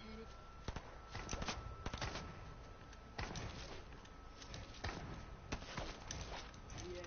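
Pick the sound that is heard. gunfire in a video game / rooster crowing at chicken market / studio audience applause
gunfire in a video game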